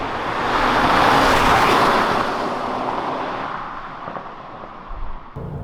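Hyundai Azera V6 engine revving hard to about 6,000 rpm on a night drive, a loud, broad roar that swells and then slowly fades under road noise.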